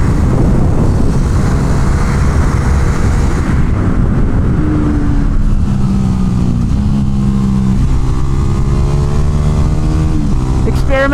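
Motorcycle engine revving hard on a track, pitch dropping and climbing again as the rider shifts up through the gears between corners, loud and continuous with wind rush, and a voice talking briefly over it.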